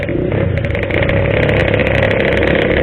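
A Yamaha RX King two-stroke motorcycle revving loud and close, a raspy, buzzing engine note that climbs steadily with a crackling edge and no talk over it.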